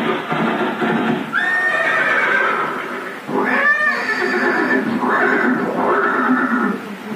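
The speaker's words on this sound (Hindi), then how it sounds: "ये दृश्य महाराणा प्रताप और सुनिख्यात स्वामी भक्त घोड़े चेतक के अंत" A horse whinnies loudly and repeatedly, close by, in a museum display depicting Maharana Pratap and his famed war horse at Haldighati near Udaipur, with several drawn-out neighs over a steady background din and no talk.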